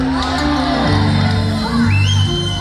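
A concert crowd at an orchestra show in Gafanha do Carmo cheers and whoops after a singer impersonation, with loud, sustained shouts over a continuous crowd roar.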